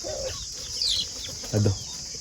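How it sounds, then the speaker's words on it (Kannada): Free-range native country chickens in a farm shed give brief agitated clucks and squawks, then a short burst of wing flapping about midway, heard fairly close over faint background noise. "ಅದು ಬಂದ ತಕ್ಷಣ ಎಲ್ಲ ಹೆಂಗೆ ಗಲಾಟೆ ಆಗೋದು ಕೋಳಿಗಳು"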